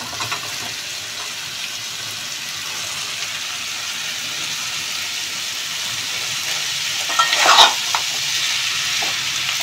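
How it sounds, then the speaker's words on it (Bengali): Cut bottle gourd pieces go into spice paste frying in oil for a Bengali bottle gourd and prawn curry, giving a steady broad sizzle with a louder burst of crackling and stirring near the end. "এই সময় আমি কেটে রাখা লাউগুলোকে দিয়ে দেব।"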